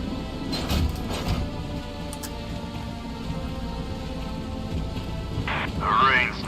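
Steady rain pours in a stormy battlefield scene in the Valkyria Chronicles 4 video game, with a low roll of thunder swelling near the end.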